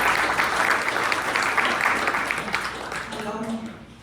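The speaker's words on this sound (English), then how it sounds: "We can give a big round of applause to Councilmember Patty Lopez" A community forum audience applauds council member Patty Lopez, with a loud, dense clapping wash that gradually thins, while a voice begins speaking over the tail end.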